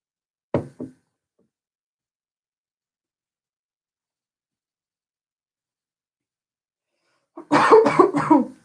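Someone coughs after swallowing a drink the wrong way during a virtual quiz: a brief pair of coughs, a long silence, then a louder, harsher burst of coughing up close.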